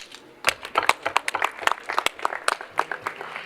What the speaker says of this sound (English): I think we need to clap for Rotaractors